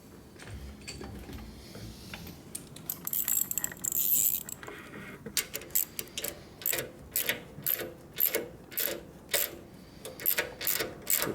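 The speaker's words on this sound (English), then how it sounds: "Now we can adjust it with a wrench here." A wrench works on the transmission of a 1936 Harley-Davidson WL 45ci flathead during a bobber rebuild, giving a series of close, rhythmic metallic ratcheting clicks in short bursts, with no talking.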